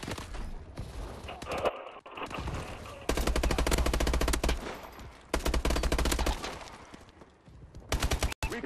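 Rapid bursts of machine gun fire from Call of Duty Advanced Warfare team deathmatch play, loud and close, coming in several long sustained volleys separated by short gaps.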